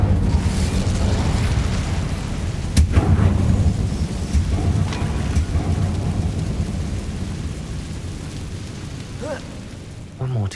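An Incendio fire spell cast in Hogwarts Legacy: a loud, rumbling burst of flame with a sharp boom near the start, then a long roaring crackle that slowly fades.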